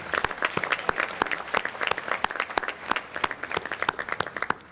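An audience at the 2017 National Organization of Minority Architects gala in Houston applauds, dense sustained clapping from many hands filling the room at close range.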